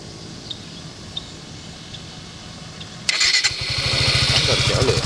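A Suzuki Gixxer motorcycle started by remote: a quiet idle background, then a sudden crank and the engine catches into a close, steady, throbbing idle.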